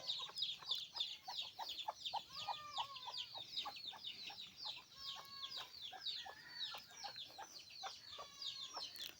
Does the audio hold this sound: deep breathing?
no